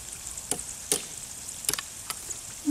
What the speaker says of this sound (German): Da brutzeln die Kartoffeln.